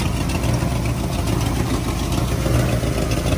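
A 1967 AMC Marlin's 343 V8 idles with an exhaust leak where the exhaust pipe meets the donut gasket, a steady close rumble with a faint irregular puffing texture and no voices.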